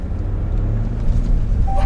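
A Ram Rebel rock crawler with a diesel engine grinds uphill over rocky ground in the Rockies, its engine a steady, loud low rumble throughout, with a brief higher whine near the end.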